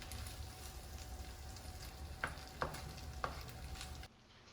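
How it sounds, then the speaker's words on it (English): Plant-based sausages sauté in fresh olive oil, giving a soft, steady sizzle with three sharp stirring clacks before the sound cuts out abruptly near the end. "with the sausages sauteing right now"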